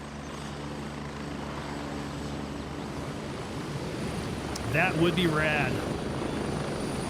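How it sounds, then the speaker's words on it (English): A steady, droning helicopter rotor and engine roar runs throughout in the Gray Zone Warfare shooter game, with someone speaking briefly over it near the end. "Apologize for the helicopter noise."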